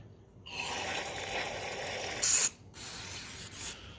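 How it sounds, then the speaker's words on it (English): Carb cleaner sprays from an aerosol can onto the carburetor of a 1986 Honda Fourtrax TRX250 ATV: one steady close hiss of about two seconds, a sharper burst, a short break, then a further spray. "Carb cleaner is your friend. Use it generously."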